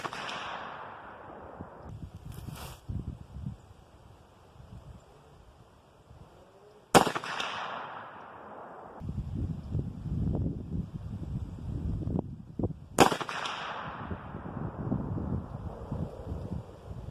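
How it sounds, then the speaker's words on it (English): Two sharp, loud reports from a .45-70 rifle fired at a target outdoors, spaced several seconds apart, each with a quick decaying echo over light wind noise. "We'll be shooting our last set here, bottom target."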